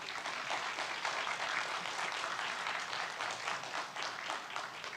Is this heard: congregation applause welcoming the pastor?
yes